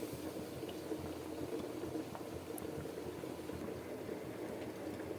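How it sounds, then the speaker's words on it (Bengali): Rice for a vegetarian biryani boils steadily in a pot, a continuous low bubbling and simmering hiss that stays even and close throughout, with no voices. "ভাত প্রায় ফুটে গিয়েছে দেখো।"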